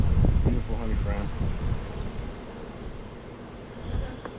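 Honey bees drone around an open hive in a cotton-honey beeyard, a steady close buzzing mixed with outdoor air and rustle, louder at first and then settling to a constant hum.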